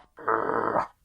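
A fluffy dog wearing a muzzle lets out a single close, loud growl lasting under a second, rising sharply and cutting off, with no talk around it.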